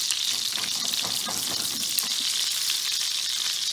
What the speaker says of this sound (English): When you're cooking the meatballs, cook them over a medium heat